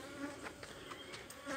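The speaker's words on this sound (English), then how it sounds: "some of them buzzing around my head" Honeybees buzzing around a person's head on a sunny morning, a close, steady insect drone with individual bees swelling louder as they pass near.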